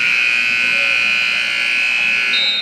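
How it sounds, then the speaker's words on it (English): A loud, steady electronic buzzer sounds through a gym during a men's college basketball game between Washington and Lee and Eastern Mennonite at University Commons in Harrisonburg, holding a continuous high tone for nearly three seconds. "Lovely buzzer sound."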